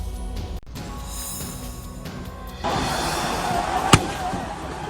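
A single sharp firework bang cracks out over a noisy, hissing crowd, with a brief whistling trail rising just before it.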